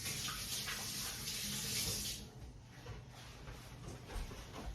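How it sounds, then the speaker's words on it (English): Tap water running into a kitchen sink while hands are rinsed, a steady hissing splash that is close and clear at first, then softens and fades lower after a couple of seconds. "let me give my hands a quick rinse"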